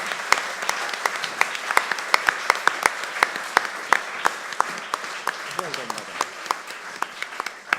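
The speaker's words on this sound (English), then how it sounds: "big round of applause for Sarah" Audience applause at a live cartoon-drawing event, steady sustained clapping from a room full of people with crisp individual claps standing out, a faint voice briefly underneath.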